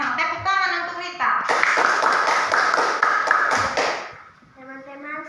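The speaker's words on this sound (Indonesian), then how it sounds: "Tepuk tangan untuk Rita." Schoolchildren in a classroom break into a burst of clapping for a classmate stepping up to present, a few seconds of busy hand claps between stretches of talk and voices.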